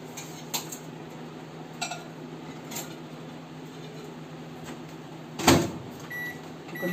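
Quiet kitchen handling sounds: a few light clinks and taps, then a louder clunk as an eggless strawberry sponge cake goes into a convection microwave set to 180 degrees, over a faint steady hum.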